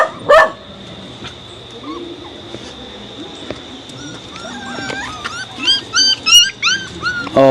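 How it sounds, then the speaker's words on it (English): Sharp barks from a puppy, a burst of short yelps early on and a cluster of high, quick barks near the end, with a steady high whine and other animal calls in the background. "And puppy, well, that's a sharp bark."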